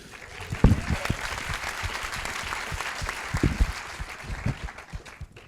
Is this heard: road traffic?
no